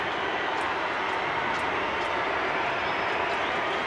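Broad, steady roar of a big stadium crowd at the 2022 Super Rugby Pacific final between the Blues and Crusaders, a dense continuous din filling the space without pause.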